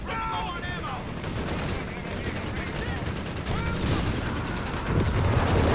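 Battle gunfire from the strategy game Company of Heroes 3, with Panzers under fire from a Sherman tank, rattles as dense overlapping shots and booms beneath a commentator's steady talk.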